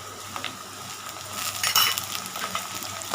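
Onions and curry leaves sauté in a pan of oil for poori masala, a steady close sizzle with brief stirring scrapes and a louder crackling burst midway, no talk.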